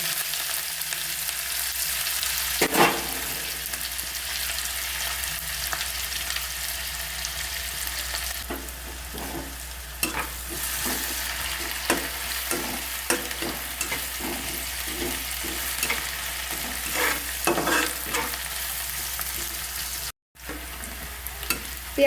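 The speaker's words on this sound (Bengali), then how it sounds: "কুচিয়ে রাখা পেঁয়াজটা আমি তেলে দিয়ে দিলাম।" Chopped onion frying in two tablespoons of hot oil for a Bengali coriander chicken curry, a continuous close sizzle with scattered stirring scrapes and a short break near the end, no talking.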